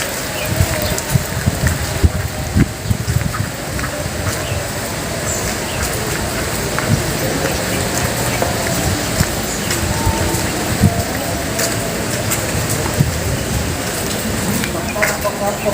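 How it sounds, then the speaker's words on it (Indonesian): Rain falling outdoors at a graveyard, a steady wash of patter with scattered sharper drops, heard close and continuous, with faint voices and occasional knocks mixed in. "cuacanya hujan"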